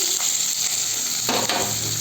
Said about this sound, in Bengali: আর এই পেঁয়াজটা এর মধ্যে ছেড়ে দিলাম।